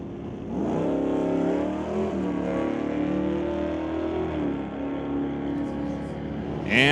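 Engines of a blue Ford Mustang and a teal Chevrolet Malibu roar together in a loud, sustained drag-race launch, rising pitch across the run, with a commentator's voice faintly underneath.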